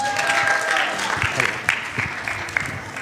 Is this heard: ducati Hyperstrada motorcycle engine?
no